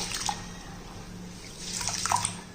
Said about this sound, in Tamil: கம்பை நல்லா நல்லா பிசைஞ்சு விட்டோம்னா கம்பில் உள்ள டஸ்ட்டுகள் பூரா நல்லா நம்மளுக்கு தண்ணியில் வந்துடும்